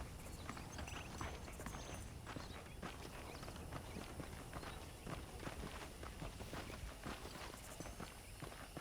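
Steady clip-clop of horse hooves walking at an even pace in the video game Red Dead Redemption, a rhythmic series of hollow knocks with a faint background hum.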